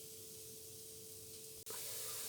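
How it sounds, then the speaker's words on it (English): Steady, hissing sizzle of a frittata frying in a pan, close and continuous, with a brief click near the end. "You can hear it sizzling."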